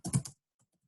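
Typing on a computer keyboard while entering data into SPSS: a quick close burst of a few keystrokes, then a handful of faint, scattered taps in an otherwise quiet room.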